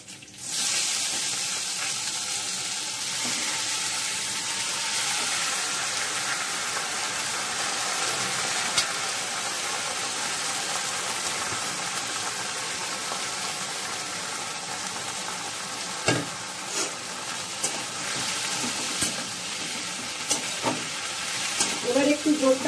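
Masoor lentils hit a hot pan and sizzle loudly from the start, the fierce hiss settling into a steady fry with occasional scraping stir clicks near the end.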